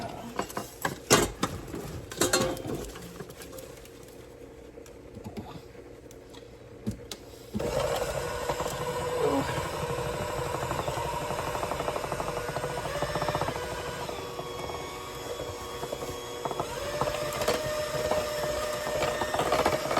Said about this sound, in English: we're gonna have to plug in our mixer